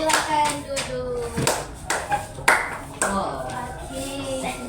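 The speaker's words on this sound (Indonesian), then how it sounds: "Terima kasih untuk kelompok 2. Tepuk tangan dulu." Teachers in a training classroom clapping for a presenting group, a handful of scattered, uneven hand claps mixed with talking voices.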